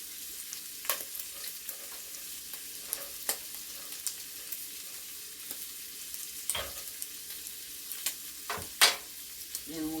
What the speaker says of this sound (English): we will give this a good stir